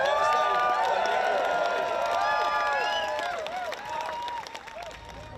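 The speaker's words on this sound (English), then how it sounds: "give ourselves a round of applause" Audience applause and cheering at a pro-Palestine rally: a dense burst of clapping with high whoops that gradually fades away.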